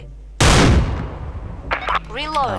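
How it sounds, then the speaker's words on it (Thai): A Barrett sniper rifle in the video game Special Force 2 fires a single loud, booming shot that rings out and decays. Someone speaks briefly right after. "เราเราจะยิงดูนะฮะว่ามันทะลุได้ไหม"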